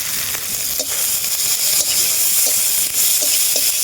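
Onion and tomato with salt and turmeric sizzle loudly in a hot pan, a close, constant frying hiss with a few soft stirring scrapes and no talking.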